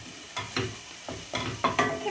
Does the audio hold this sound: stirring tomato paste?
yes